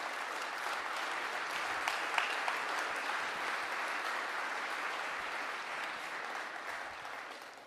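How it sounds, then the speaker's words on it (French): Audience at a corporate New Year's greetings ceremony applauds Philippe, a broad, sustained round of clapping from a large hall, steady for several seconds before easing slightly at the end. "vous pouvez l'applaudir."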